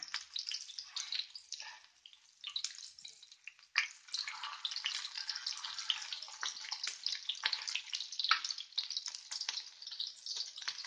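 A chapli kabab fries in a pan with a busy, crackling sizzle of oil that rises and falls in uneven bursts, fairly faint and heard alone without talk.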